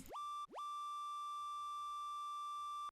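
A synthesized dubstep bass tone sweeps sharply up in pitch and holds, drops, then sweeps up again to a long sustained buzzy note, alone and loud.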